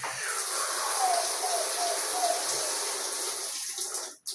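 Water runs from a shower in a home bathroom in Eldoret, a steady hissing spray with faint whistling tones, ending abruptly with a brief clunk.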